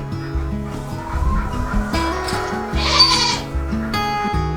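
Several goats bleat loudly and close by, overlapping wavering calls one after another, with a bird clucking faintly among them.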